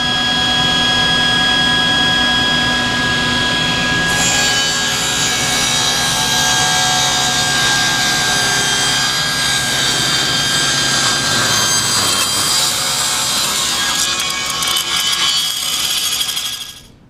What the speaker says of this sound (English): I will do one test cut to double check to make sure that it is set up exactly